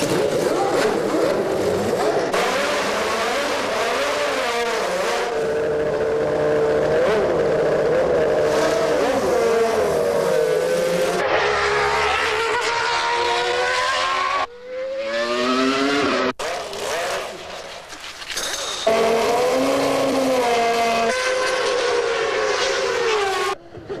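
The Williams Renault FW15c Formula One car screams past at high revs, a loud, piercing engine note that rises and falls through gear changes and passes, with brief drops and cuts between runs.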